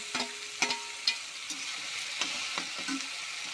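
Spice paste of prawns, ginger, garlic and green chili fries in a pan for an eggplant dish, giving a steady soft sizzle broken by a few sharp stirring clacks at irregular intervals, close by with no talk.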